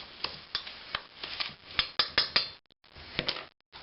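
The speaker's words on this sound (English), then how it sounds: "stir it a little bit." A spoon scrapes and knocks through oatmeal cookie batter in a bowl, a series of close, irregular clinks and rubbing strokes with brief pauses and no voices.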